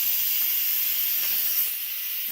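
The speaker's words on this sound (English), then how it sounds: "I mean, that's a lot of steam." A basic Instant Pot pressure cooker vents steam through its pressure release valve. The loud, steady, close-up hiss continues throughout and eases slightly toward the end.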